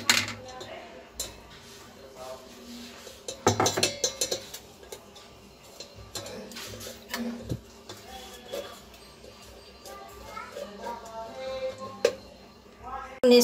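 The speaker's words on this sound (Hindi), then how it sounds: "अब हम इसको छानेंगे।" Ground mint-lemon sharbat mixture is pressed through a metal sieve, with light clinks and scrapes of a spoon against the mesh and bowl in a quiet kitchen, and soft sounds between the taps.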